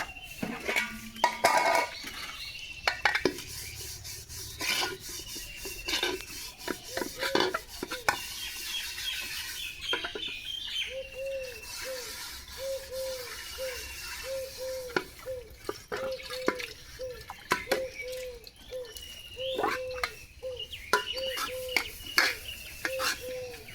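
Pots and plates being washed by hand: repeated clanks and scrapes of metal cookware, splashing water and scrubbing in irregular bursts, with birds chirping in the background and occasional quiet talk.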